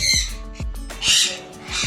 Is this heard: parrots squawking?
yes